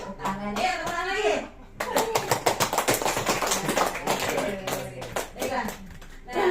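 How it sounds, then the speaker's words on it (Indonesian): An audience at a business presentation in Tangerang claps in a series of rhythmic, fairly loud beats, with a speaker talking before and after the clapping. "Tepuk tangan lagi."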